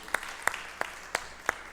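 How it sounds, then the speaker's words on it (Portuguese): Congregation at a church service clapping, with a few distinct, evenly spaced loud claps standing out over a soft background murmur. "Vamos aplaudir o Senhor?"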